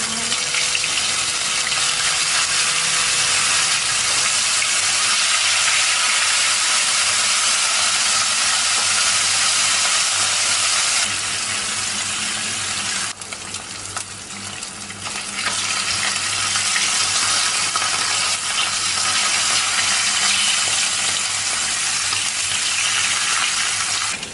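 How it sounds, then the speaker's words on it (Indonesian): Salted fish frying in hot oil in a wok, giving a loud, steady crackling sizzle and hiss that runs throughout with a brief dip partway, no voices present. "Kalau sudah panas, kita akan goreng ikan asinnya terlebih dahulu ya."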